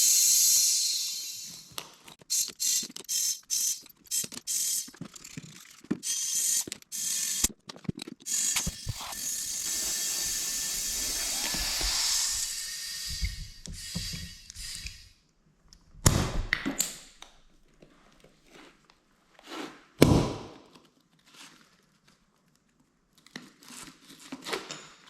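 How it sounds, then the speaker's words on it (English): A ratchet strap is cranked tight around a stubborn tire on a Craftsman lawn utility vehicle to seat the beads, giving bursts of rapid ratcheting clicks, then a couple of loud sharp pops and thumps among quieter handling noises. "this one's being very stubborn, so I wrapped a ratchet strap around it"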